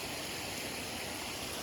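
A creek beside a rhododendron tunnel on the Appalachian Trail gives a steady, faint, broadband rush of flowing water with no breaks and no voices.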